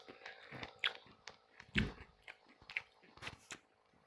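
Close, crisp crunching of crisps being bitten and chewed, irregular bursts with short pauses, no talking.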